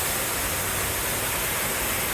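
A waterfall at the end of a staircase in EPCOT's Canada pavilion gives a steady, even rush of falling water that fills the whole moment without a break.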